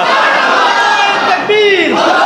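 A mosque congregation at an Eid Milad-un-Nabi gathering in Comilla shouts Subhanallah loudly in unison, a dense, close roar of many voices lasting a couple of seconds.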